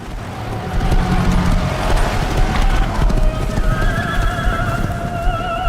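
Horse hooves clip-clop at a rapid gallop during a chase in the video game Mafia, with a horse neighing over rumbling vehicle noise and dense, loud action sound.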